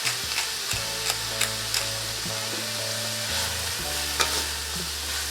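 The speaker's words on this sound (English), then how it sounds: "let it fry for 2 to 3 minutes" Green beans and green chili with salt and pepper frying in a stir-fry pan, a steady dense sizzle with occasional stirring scrapes and a low hum beneath, close and continuous throughout, no talking.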